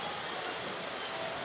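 Steady rain falling, a continuous dense hiss without pauses, constant in level and fairly loud throughout.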